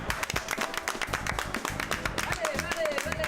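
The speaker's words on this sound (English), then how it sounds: "Let's do the clap. Let's do the clap." A group at the Elevate Oakland benefit concert clapping together with the band, rapid overlapping close hand claps in a quick rhythmic burst, with people talking over them.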